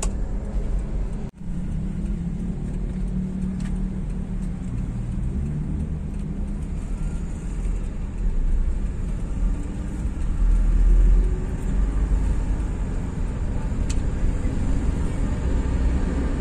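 An old Suzuki Escudo engine revs with a steady low rumble that swells briefly partway through, close and fairly loud, with no talking.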